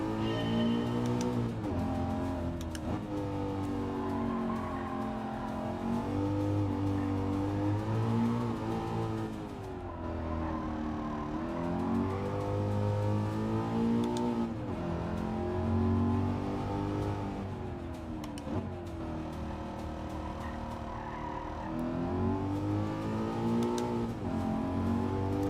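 Race car engine in Gran Turismo 7 revving hard through repeated upshifts, each gear sweeping upward then dropping, a loud, sustained, close-up engine note with brief lifts between pulls.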